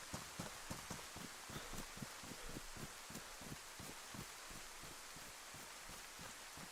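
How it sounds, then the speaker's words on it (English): Heavy rain in the DayZ video game makes a constant dense wash of hiss. Quieter rhythmic footfall-like thuds move through it. "It's raining so much that it's actually"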